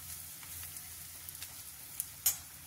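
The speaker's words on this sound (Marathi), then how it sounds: "आलं लसूण पेस्ट पण छान परतून घ्यायची आहे" Ginger garlic paste sautéing in a pan for sweet corn rice, giving a quiet steady sizzle with a few brief scraping clicks near the end, and no voices.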